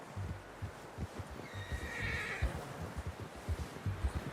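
A horse in the video game Red Dead Redemption gives a clear whinny in the middle, over soft clip-clop hoof steps and low rustling throughout.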